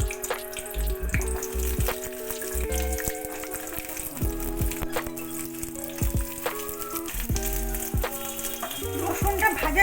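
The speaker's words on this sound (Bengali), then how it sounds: "সেই গরম সাদা তেলে আমি খোসা ছাড়ানো রসুন দিয়ে দিলাম।" Peeled garlic frying in hot white oil in a kadai, a steady sizzle running throughout under clinks and scrapes of a utensil, fairly close and moderately loud.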